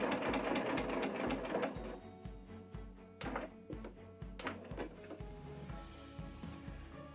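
A sewing machine stitches a pillow in rapid mechanical runs, then slows into separate thunking strokes and short bursts, close and moderately loud, with no talking.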